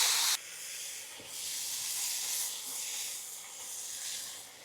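Chopped, washed fenugreek leaves frying with garlic in a pan give a steady, close hiss and sizzle that drops slightly after a brief louder burst at the start, with no talking.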